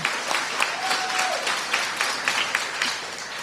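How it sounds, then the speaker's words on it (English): Audience applause at a mini medical school session on healthy aging, a steady wash of clapping with a few sharper claps standing out and a brief faint tone partway through. "can we give her a round of applause?"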